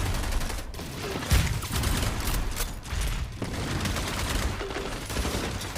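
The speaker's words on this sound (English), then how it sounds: "these are some big gunfights coming out right here" Dense gunfire rattles through a shooter video game match, rapid overlapping shots and bursts running continuously in a loud, busy wash with one heavier blast standing out.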